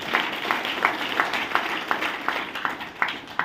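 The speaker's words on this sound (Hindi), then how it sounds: "इनके लिए जोरदार तालियां हो सकती हैं।" An audience claps in a steady rhythm, sharp beats roughly three per second, fairly faint and set back in a large room.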